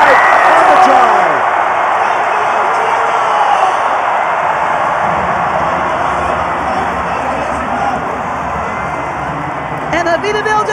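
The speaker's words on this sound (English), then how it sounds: "And Avitaville just getting this crowd to an epic, epic volume" A rugby stadium crowd at a men's final roars in a loud, continuous wash of cheering and noise that swells and holds, with a commentator talking over it.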